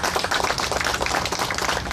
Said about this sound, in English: A round of applause for our heroes.